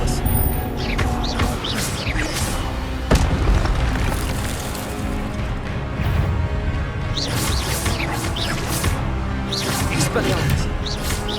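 Expelliarmus spell blasts in Hogwarts Legacy during a lesson. Repeated booming, crackling bursts over a dense, continuous game soundscape, with voices talking throughout.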